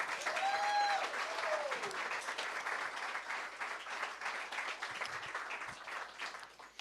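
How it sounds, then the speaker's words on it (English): Comedy club audience applauding at a live stand-up show in Seattle, a full burst of clapping and crowd noise that stays steady and then tapers, with a short whistle near the start. "So please give another round of applause to both Dustin and Rob."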